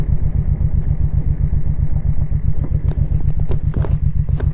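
A Honda Shadow Sabre 1100 motorcycle's engine pulses in a rapid, steady rhythm while riding on its first ride after repairs, loud and close with wind rush and occasional clatter over it.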